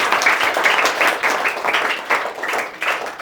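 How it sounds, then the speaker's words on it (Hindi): A group of village people claps for a young participant during an official's ground inspection visit, producing a lively burst of applause with uneven surges, fairly close and steady for a few seconds. "ताली बजाओ कृष्णा के लिए।"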